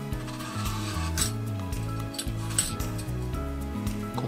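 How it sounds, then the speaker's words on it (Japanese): A knife scrapes steadily as it peels the skin from an apple, a continuous close rasping that runs under background music without any pause. "こういう感じで皮を剥いていきます。"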